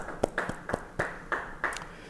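A church congregation at a Bible study claps in a few sharp, rhythmic strokes, slightly spaced and moderately near, with no talking over them.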